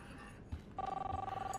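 A phone rings in the video game Life is Strange, its steady electronic tone starting partway through and repeating in a pulsing pattern, loud and close.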